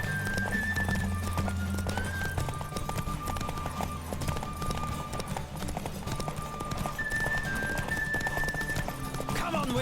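Galloping horse from the video game The Witcher 3: rapid, steady hoofbeats that stay continuous for the whole stretch, layered with tonal game music and a voice.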